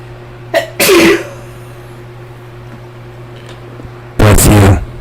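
Two sharp, loud sneezes burst out close by, one about a second in and another near the end, separated by quiet room hum.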